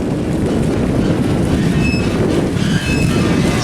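A rickety old amusement park train ride rumbles steadily and loudly with a rattling, clattering roll of wheels on track, brief high wheel squeals cutting through the constant din.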